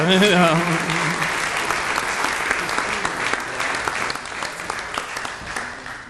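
Crowd applause for the mayor at the 2017 Milwaukee Irish Fest welcome, a voice trailing off at first, then sustained clapping that thins slightly toward the end.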